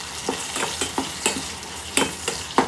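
Small shrimp heads fried with onion, garlic, dried and green chili and salt crackle under a quick, regular run of spatula scrapes, about eight strokes close at hand, with no speech.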